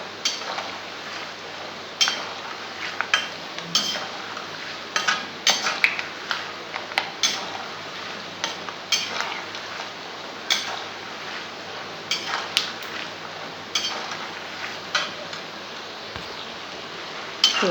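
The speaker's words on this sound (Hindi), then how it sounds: "इस तरह से बिल्कुल चलाते हुए तलना है।" Namkeen mixture ingredients frying in oil in a pan while being stirred, irregular metallic clinks and scrapes of the spoon against the pan over a faint, steady sizzle, with no talk.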